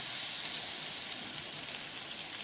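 Seer fish frying in a pan produces a soft, even hiss of hot oil, fairly quiet and unbroken throughout, with no speech.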